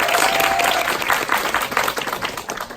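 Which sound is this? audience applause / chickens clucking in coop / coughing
audience applause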